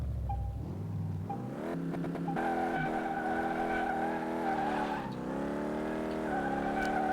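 A racing car engine in the video game Car Mechanic Simulator 2018 revs up and holds a steady high drone, shifting pitch between gear changes, with tire squeal mixed in.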